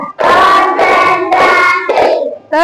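A class of students claps together in counted rounds while chanting in unison. The loud, steady group voices largely cover the clapping, with brief pauses between rounds.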